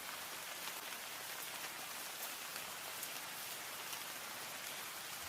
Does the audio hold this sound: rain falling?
yes